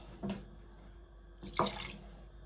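Two short splashes of water being poured into a pot for Jamaican cornmeal porridge with peanuts, quiet and close, separated by a low steady hum.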